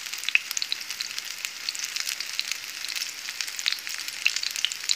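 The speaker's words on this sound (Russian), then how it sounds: "На разогретую сковороду мы выложили наши оладушки и немножечко переключили наш огонек." Small pancakes (oladi) fry in a heated pan, giving a soft, continuous sizzle with crackling pops scattered throughout, close and quiet, with no voices.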